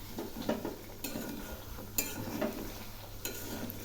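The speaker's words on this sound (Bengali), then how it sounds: "এখন ঘন ঘন নাড়তে থাকবো, কারণ কাজু বাটা দেওয়া আছে।" Doi potol curry thickened with cashew paste being stirred in a pan, a few separate spoon scrapes and light clinks spaced a second or so apart over a quiet background hum, close and fairly soft.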